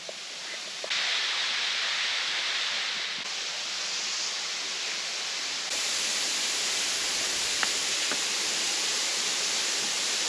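Steady broadband roar of Taian Waterfall's rushing water on a forest mountain trail, close and continuous, swelling in loudness at a couple of points with a few faint clicks.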